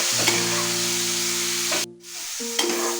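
Raw green mango pieces stirred and frying in hot oil for a mango chutney, with a steady broad sizzle under scraping spatula strokes, a brief drop in sound midway, then sizzling resumes with a few sharp scrapes.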